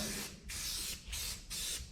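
Upside-down aerosol can spraying primer in several hissing bursts, each lasting about half a second with short pauses between, close and fairly quiet, no voices.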